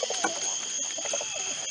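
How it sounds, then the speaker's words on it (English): Pigeons cooing at a loft, soft repeated low coos in a steady murmuring rhythm from several birds close by, over a constant high electrical hum, with no talking. "that's probably an old bird trying to get in the loft"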